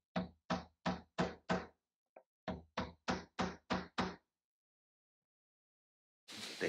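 Sharp, even knocks of a block of wood driving wooden plugs into a prefabricated bathroom sauna wall: two quick runs of about five evenly spaced taps each, close and dry, with a faint tick between them and a burst of noise at the end.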